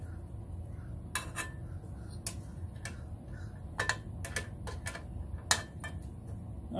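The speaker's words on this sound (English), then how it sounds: "I'm going to loosen the bowl nut, see if there's gas in it." A tool clicks and taps metallically while loosening the drain nut on a carburetor float bowl, giving a scattering of sharp, faint ticks over a low steady background hum.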